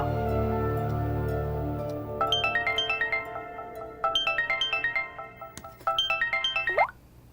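A phone ringtone melody plays in three repeated bursts of bright electronic notes, separated by short pauses, over a low background hum.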